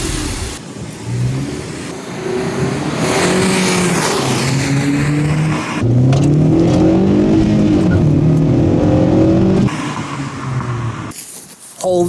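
A rebuilt wrecked car from a Copart salvage auction is driven hard, its engine revving loudly up and down in repeated rising pulls, close and continuous, then dropping off briefly near the end.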